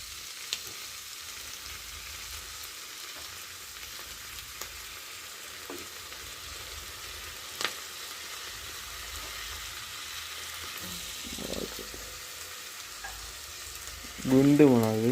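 Chillies sizzling and frying in a pan in a home kitchen, a steady crackling hiss with occasional pops and stirring clinks, swelling louder near the end.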